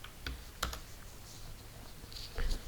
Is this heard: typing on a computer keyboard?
yes